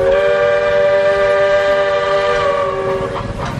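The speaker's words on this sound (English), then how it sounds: "being in the Magic Kingdom and hearing the horn of the train" A Walt Disney World Railroad train horn sounds at the Magic Kingdom, a loud, steady multi-tone blast held close and alone for several seconds, fading slightly at the end.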